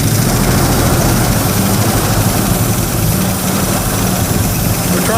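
An old truck engine runs steadily just after a starter repair, with a dense, continuous low rumble and rough mechanical vibration that hold loud and close for the whole stretch, while voices speak faintly over it.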